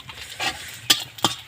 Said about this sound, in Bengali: এখানে দিয়ে দিলাম আমি শুকনো লঙ্কা, শুকনো লঙ্কাটা একটু ভেজে নেব।